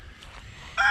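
Albert the pet bird on a homestead gives a short loud honking call near the end, after quiet low background noise.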